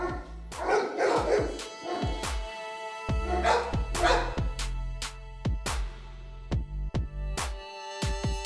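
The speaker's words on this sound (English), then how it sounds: "Nice one, magnificent looking dog right there." A Cane Corso barks at a large kennel in Ghana, a string of loud, close barks and yips in uneven bursts with short pauses, over a steady background hum.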